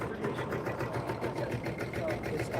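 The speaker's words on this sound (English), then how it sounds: "It's a punching machine." An upholstery punching machine, likened to a giant sewing machine, runs at a trade show with a fast, regular mechanical chatter, moderately quiet under hall ambience and nearby voices.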